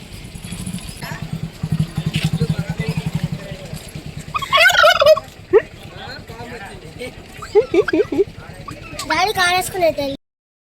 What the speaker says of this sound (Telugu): నెమలి కోడి అంటారా చూడండి ఎంత బాగుందో చూడండి